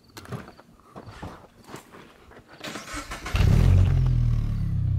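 Car engine cranks and catches after a few faint knocks and footsteps, then settles into a loud, close, steady rev and idle for the final seconds, with no talking.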